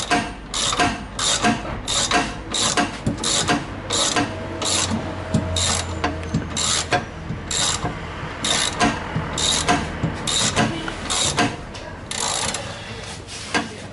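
Ratcheting 24 mm wrench working on the rear shock absorber of a Peugeot Partner, giving steady repeated metallic clicks and clacks in a brisk rhythm, close and fairly loud, with no talking.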